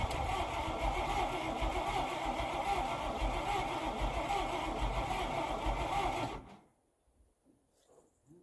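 An International K7 truck engine runs loud and steady at close range with a rough idle, then cuts off abruptly near the end, leaving near silence with a few faint clicks.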